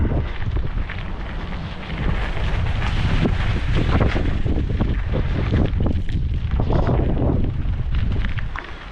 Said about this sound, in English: Again, sorry about the wind.